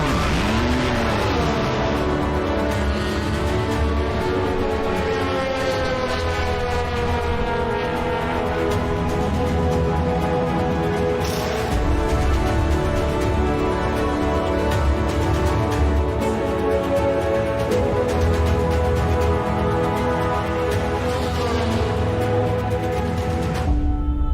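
DTM race car engine roaring around Monza in a sim racing game, loud and continuous with rising and falling revs, gear changes and occasional tyre squeal, no talk.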